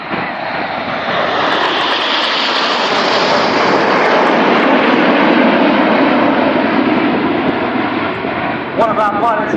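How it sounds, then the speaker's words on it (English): Avro Lancaster bomber flying over a Swansea air show, a loud, sustained roar of piston engines that swells and holds as it passes overhead, with announcer talk running underneath. "commemorating 70 years since the Dambusters, this is Lancaster."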